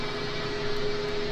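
Airplane engine in a Roblox flight simulator game, a steady, moderately quiet drone with a constant tone as the aircraft taxis, heard alone for a brief moment.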